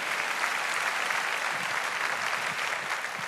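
An audience applauding in a church service, steady, even clapping from a crowd throughout, moderately distant and with no voices over it.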